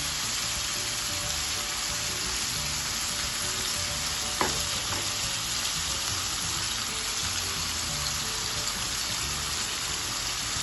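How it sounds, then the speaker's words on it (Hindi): Fried rice with chicken and mushrooms sizzles steadily in a pan as soy sauce goes in, a continuous close hiss with one brief clink partway through. "साथ ही साथ मैं इसमें डालने लगी हूँ 1 चम्मच सोया सॉस,"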